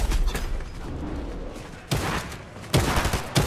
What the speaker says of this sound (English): somebody else is shooting at me as well